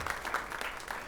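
An audience at a talk on coming out claps briefly, a soft, distant patter of scattered hands lasting about a second.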